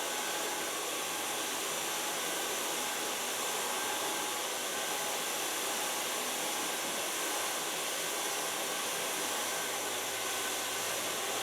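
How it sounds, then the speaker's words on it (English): Hair dryer blowing steadily while styling a shaggy blonde bob, a close, loud, continuous whooshing hum with no talking. "Now start blow drying."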